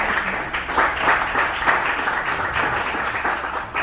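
A church congregation breaks into a strong round of applause during a sermon, dense and steady clapping throughout.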